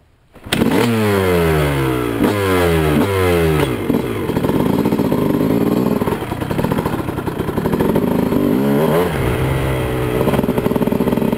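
A Honda CR250 two-stroke dirt bike rips past in repeated revving bursts, the pitch climbing and dropping through several quick gear pulls before settling into a sustained, loud, raspy drone as it passes nearby.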